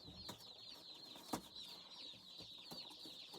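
Meat chickens clucking softly in a pen, faint and distant, with a steady high chirping background and a few brief knocks.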